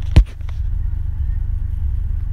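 A rotary-engined car with aftermarket parts cruising, heard from inside: a sharp thump at the start, then a steady low engine drone with a buzzing rhythmic rumble that holds even to the end.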